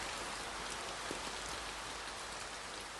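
Steady, dense rain falls at night outside a roadside motel, a continuous even hiss with no pauses and no voices.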